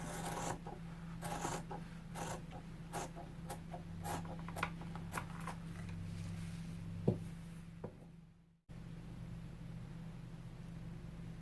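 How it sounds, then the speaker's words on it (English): Good fabric scissors trim excess fabric from a sewing journal cover: a rapid run of close, crisp snips, then sparser cuts that fade out, followed by a brief cut to quiet room tone. "I'm going to go ahead and cut this extra fabric off"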